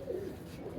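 A Ferozpuri pigeon gives a soft, low, close coo that holds steady for under a second.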